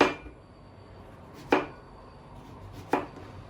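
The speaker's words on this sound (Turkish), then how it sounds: "Patateslerimi aldım. Şöyle doğrayacağım." Three sharp knife chops through potatoes land on a cutting board, spaced over a couple of seconds, with quiet room noise in between.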